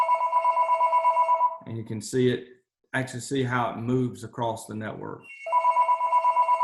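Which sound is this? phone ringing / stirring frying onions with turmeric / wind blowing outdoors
phone ringing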